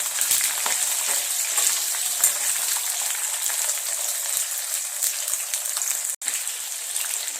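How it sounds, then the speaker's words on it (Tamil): Small onions sautéing in hot oil for kara chutney, a dense, loud, continuous sizzle and crackle heard close up without pause, with no talking. "வெங்காயம் வந்து நல்லா வதங்கணும்."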